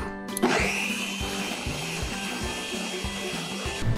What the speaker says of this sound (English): now we'll blend it until smooth, which is usually about 10 seconds